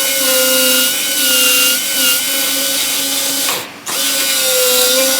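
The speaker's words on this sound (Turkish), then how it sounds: "Ama preklinikte genelde biz bunu füsür frez kullanarak açıyoruz." A dental fissure bur drills a cavity in a molar with a loud, close, high-pitched whine that holds steady, dips briefly near the end, then resumes.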